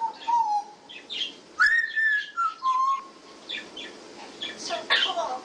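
A parrot mimics an answering machine, giving a string of whistled tones, beeps and chirpy squawks in quick bursts, close and moderately loud over faint room noise.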